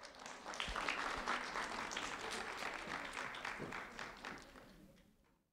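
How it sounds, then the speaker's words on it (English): Audience applause for a student at a sheriff's office event, a sustained burst of clapping from a crowd that holds steady for several seconds, then fades out at the end. "a round of applause for Taylor Reese, please."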